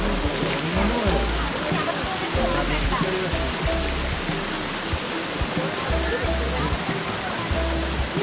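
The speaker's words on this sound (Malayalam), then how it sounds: "ഇതാ രണ്ടാമത്തെ വെള്ളച്ചാട്ടം" Thusharagiri waterfall, running low after little rain, pours as a loud steady broadband rush of falling water, with voices talking over it.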